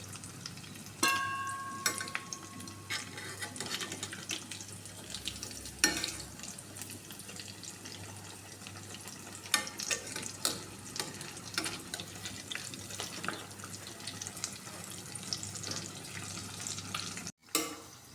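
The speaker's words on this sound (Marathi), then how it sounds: "मीडियम गॅसवरती फ्राय करणार आहोत" Bread pakora sizzling in hot oil over a medium gas flame, a steady crackling fry with occasional louder pops and stirring clinks, close and continuous, ending in a short break.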